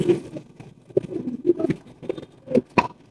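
A male Sirazi pigeon coos in a pigeon market, several soft throaty calls in an uneven rhythm, close by with faint shuffling and patter around them.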